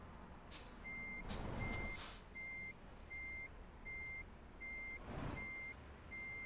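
Truck reversing beeps in Euro Truck Simulator 2, a regular series of faint evenly spaced electronic beeps, with a few short bursts of air-brake hiss between them.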